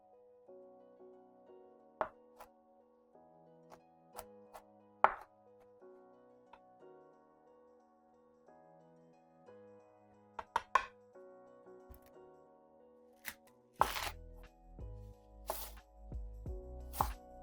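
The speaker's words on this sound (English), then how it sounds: "Let's cut some onion and chop some garlic." A kitchen knife chops onion and garlic, giving scattered, sharp taps on a cutting board over quiet background music. A few louder thumps and clatters come near the end.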